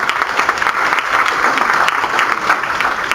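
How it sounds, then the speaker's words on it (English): An audience at an HR liaisons network meeting gives a big round of applause, loud, close and continuous clapping that stays even from start to finish. "please give them a big round of applause as well"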